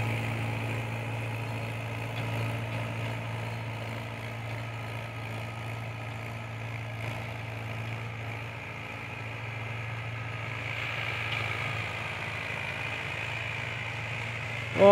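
A Mahindra 575 DI tractor engine idles steadily with a low, even drone and a constant mid-range hum, running close by under no load for the whole stretch with no talk.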